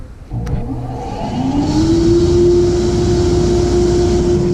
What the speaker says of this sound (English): I'm going to turn the unit on. First the blower.